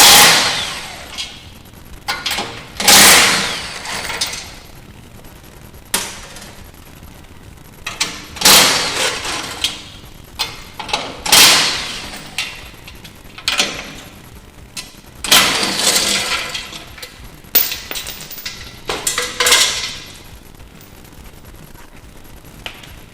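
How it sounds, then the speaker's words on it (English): Nuts being taken off a Toyota Tacoma aluminum crash bar with a 14mm socket on an impact tool, heard as loud, close bursts of ratcheting rattle separated by short pauses. "To take this off, we're going to use a 14mm socket, and we're going to pull off these 6 nuts."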